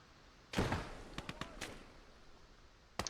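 Grenade blasts and a counter barrage in the Gates of Hell war game: one heavy explosion, a run of sharp cracks and a second boom, then a final close blast, all loud against a quiet background.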